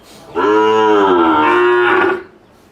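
A Sahiwal cow lets out one long, loud, close moo lasting about two seconds, alone with no talk.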